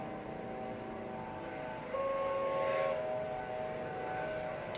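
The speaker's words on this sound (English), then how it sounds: "helicopter's coming in" A helicopter comes in to land at a hospital, heard as a steady, fairly distant engine drone with a rising whine that grows louder partway through and then holds. No one speaks.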